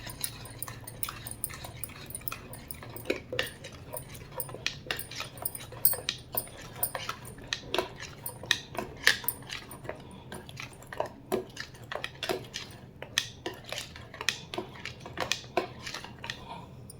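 A spoon works through sooji (semolina) cake batter mixed with refined sunflower oil in a bowl, giving a steady run of scraping clicks and light clinks against the bowl, close and fairly quiet throughout.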